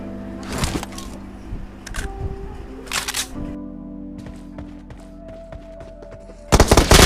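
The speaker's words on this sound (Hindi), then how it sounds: "तो यहाँ पे फायरिंग की आवाज़ सुन के बंदा आता है" Scar rifle gunfire in PUBG Mobile, heard as several sharp bursts of shots spread across the span, with a loud cluster at the very end over steady game background noise.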